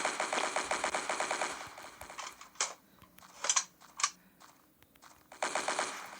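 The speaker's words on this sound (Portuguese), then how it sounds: "Vamos atirar nesses caras aqui." Rapid automatic gunfire in a shooting video game, bursts of fast repeated shots at the start and end with a few single louder blasts in between, close and clear with no talking.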